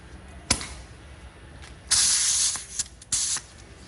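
A wire wheel scrubs the wheel bearing housing of a Toyota Prius front hub in short, hissing, abrasive bursts: a sharp tick, then two longer brushing passes separated by brief pauses.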